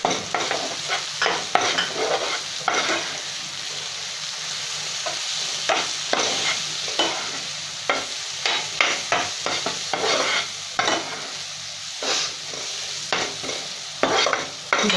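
Spoon scraping and stirring spices through prawn curry frying in a pan, a steady sizzle underneath with repeated sharp scrapes in an uneven rhythm, close and fairly loud, no talking.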